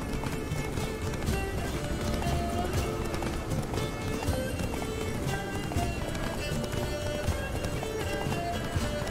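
In The Witcher 3 video game, a horse gallops with fast, rhythmic hoof clip-clops under a continuous music score and other game sounds, all fairly quiet.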